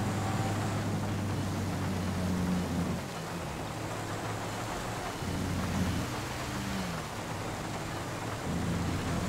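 Thunderstorm in the video game Grand Theft Auto V, dense steady rain hiss with low rumbling thunder swelling and fading beneath, alongside a droning engine hum that cuts out briefly midway.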